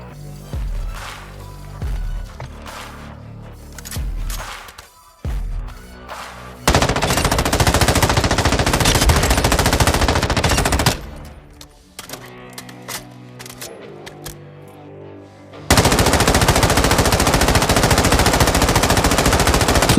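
Sustained automatic M13B gunfire in Warzone 2, loud long bursts broken by short pauses and quieter stretches of handling and single shots, close up.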